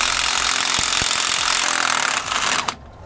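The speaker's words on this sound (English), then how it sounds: "We're going to need to take off the two nuts on the rear U-bolt." An impact wrench rattles steadily to remove U-bolt nuts with a 1 1/8 inch socket on a leaf spring pack of a 2018 Ford F-53 chassis, close and loud, then stops abruptly near the end.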